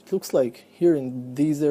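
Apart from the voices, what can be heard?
None of the usual background noises is heard.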